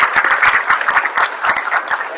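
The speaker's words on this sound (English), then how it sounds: "Please, a round of applause for Danielle." A crowd at a Star Wars convention panel claps for a panelist, a full, continuous round of applause with crisp individual hand claps layered over the steady wash.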